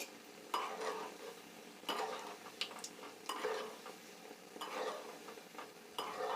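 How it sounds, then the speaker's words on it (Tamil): Heart-shaped gulab jamun frying in hot oil over medium heat, a soft sizzle broken by several bursts of ladle stirring and gentle metal scraping in the pan; no one speaks. "ஸோ மீடியமாகவே வச்சு நம்ம வறுத்தெடுத்துக்கலாம்"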